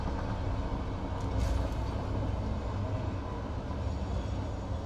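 A train moving in the factory-building video game Satisfactory gives a steady low mechanical rumble with faint creaks, continuous and moderately loud throughout, with no talk.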